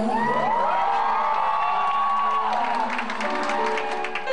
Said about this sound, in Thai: เรียกเสียงกรี๊ดจากแฟนคลับได้ดังสนั่นลั่นหอประชุมมหาวิทยาลัยธรรมศาสตร์